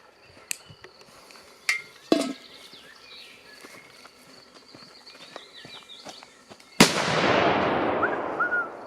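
A Demon firecracker detonates with a sudden loud blast late in the sequence, its boom rolling into a long, dense, crackling wash, after several sharp isolated pops and faint outdoor background.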